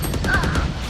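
Gunfire in a shooter video game: a quick run of about five evenly spaced shots rattles out close and loud within a second.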